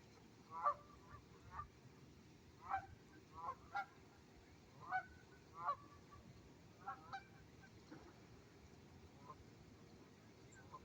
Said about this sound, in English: Here, go chase the geese, Fifi.